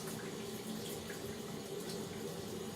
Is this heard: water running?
yes